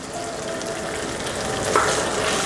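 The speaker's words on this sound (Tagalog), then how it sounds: "So itutuloy ko lang dito yung paghalo." Pork stir fry being stirred through a sauce in a hot pan, a steady sizzle and frying hiss with soft scraping of the utensil, close and continuous, one brief clink near the end.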